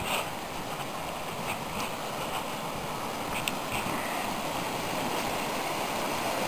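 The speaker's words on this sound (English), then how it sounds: "I hear the river." The Lower Deschutes River flows in a continuous, even rushing wash of water, steady and fairly close throughout, with no one talking.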